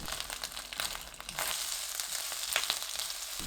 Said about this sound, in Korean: 팬에 식용유 2큰술, 마늘종 250g 넣고 중불로 3분 볶아주세요.